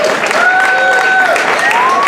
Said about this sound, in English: You guys can clap.